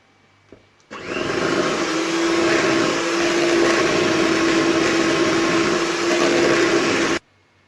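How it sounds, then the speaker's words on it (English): Electric hand mixer whirring steadily as it beats butter in a bowl for a vanilla cake, a loud continuous motor drone with a faint steady hum, starting abruptly after a brief click and cutting off cleanly at the end. "If you do not have a hand mixer, you can use any whisk or any wooden spoon."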